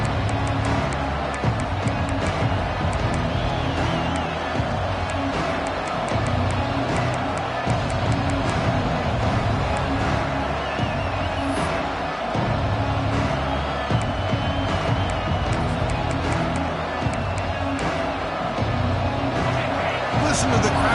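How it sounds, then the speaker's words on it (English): Stadium crowd at a video game college football match, a dense continuous roar of fans held at a constant level for the whole stretch, with a commentator talking over it. "Listen to the crowd energy here in the early going."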